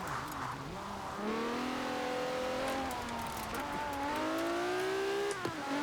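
Modified JDM car engine in Forza Horizon 4 revving high after a cam upgrade, a sustained rising and falling engine whine climbing through gears, steady and loud with no voices.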